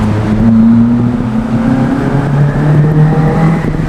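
A loud Toyota AW11 engine with a 4AGE and bike carburetors roars and climbs in pitch as it accelerates hard, up close and continuous, with no talking.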